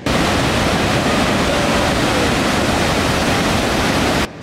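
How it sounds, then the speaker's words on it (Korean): Iguazu Falls on the Brazilian side roars as a loud, steady wall of broadband water noise that runs unbroken for several seconds before cutting off abruptly near the end. "폭포가 이뻐요"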